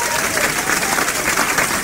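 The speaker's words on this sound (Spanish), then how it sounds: "por favor, fuerte el aplauso." Dense, steady applause from a sizeable crowd at a talk on board games, many hands clapping at once without a break.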